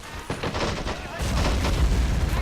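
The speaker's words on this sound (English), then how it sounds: "let's get a couple grenades in there" Grenade and mortar blasts boom and crackle in the World War II strategy game Men of War: Assault Squad 2, several dull explosions building into a heavier rumbling barrage.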